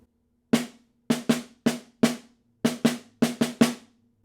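Sharp snare drum strokes from measure one of a snare etude, led with the right hand, ring out alone in an uneven sticking pattern. Eleven crisp hits come in short groups and pairs, with a faint tonal ring after each.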